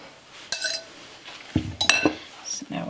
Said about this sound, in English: So now we're just going to mix all that in together.